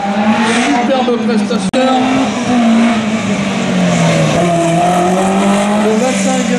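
A rally car accelerating hard in a slalom event at Saint-Lô, its loud engine revving and changing pitch up close, with an announcer talking over it and one brief sharp click.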